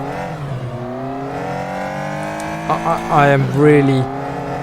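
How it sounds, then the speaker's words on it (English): A car engine in the Assetto Corsa racing game drones at a steady harmonic hum, then revs up and down while the car slides through sharp corners, with someone talking over it. "Also, the car sounds really bad."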